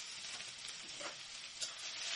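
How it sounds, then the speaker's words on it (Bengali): Chopped onions fry in mustard oil with panch phoron for a Bengali okra chorchori, giving a soft, continuous sizzle and hiss throughout, fairly faint, with no voices. "লাল লাল করে পেঁয়াজগুলো আমি ভেজে নেব"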